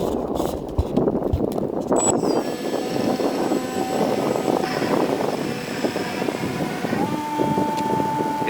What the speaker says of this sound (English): Today we're going to maiden flight my Pay the Piper Cherokee.